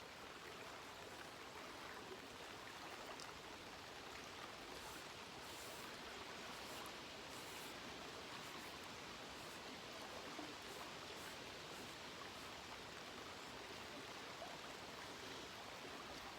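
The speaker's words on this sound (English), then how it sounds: "You see the water is moving." A woodland summer stream in Upper Michigan flows and splashes steadily, a dense continuous rush of water close by that holds even throughout, with no voices.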